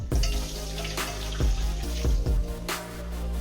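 Water splashes and pours steadily through a colander straining watercress and spinach, with a few soft clatters and knocks of the colander along the way.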